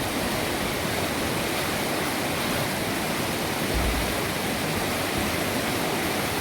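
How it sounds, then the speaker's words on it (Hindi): Flowing water in Jim Corbett National Park, Uttarakhand, rushing as a steady, dense, loud roar with no pauses and no voices. "पानी की आवाज़"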